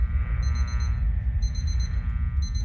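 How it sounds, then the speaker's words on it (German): Alarm clock ringing in the horror game Obsideo, bursts of high electronic ringing in three pulsed groups over a constant low rumble of game ambience, fairly loud and steady. "Der Wecker geht mir ein bisschen auf den Geist irgendwie."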